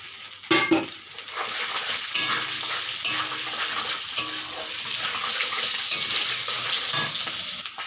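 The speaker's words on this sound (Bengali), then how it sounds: "ওই তেলের মধ্যে ফোড়ন দেব কালো জিরে, কাঁচা লঙ্কা চেরা, তেজপাতা আর শুকনার গোটা গরম মশলা দিয়ে দিলাম ফোড়ন" Whole spices, nigella seeds, slit green chillies and a bay leaf sizzling in hot oil as tempering for prawn malai curry, a steady crackling hiss opening with a sharp burst, punctuated by stirring scrapes, no voices.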